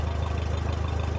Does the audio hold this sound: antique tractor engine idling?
yes